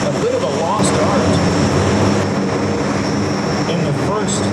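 A Stearman biplane roars steadily at an airshow, its radial engine a loud, continuous drone with no pause or change in level.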